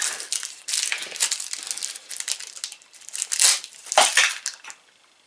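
Crinkly gift packaging is crushed and crumpled continuously up close while someone struggles to open it, giving dense, rustling, crackling bursts of varying loudness.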